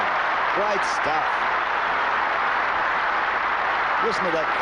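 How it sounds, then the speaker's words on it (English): A crowd applauding at the 1975 Australian Open tennis match between John Newcombe and Jimmy Connors, a loud, dense wash of clapping filling the whole stretch with brief tonal sounds over it. "Listen to that crowd."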